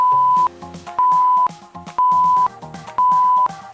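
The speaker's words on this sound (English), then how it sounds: "Remember, beeps don't mean stop, they mean keep going for 5." A workout interval timer sounds four evenly spaced, loud, steady beeps about once per second, with quieter tones between them and no talking.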